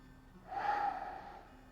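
A slow, deep inhale during a guided meditation breathing exercise, a single soft airy swell that builds and then tapers off, close and quiet with no talking.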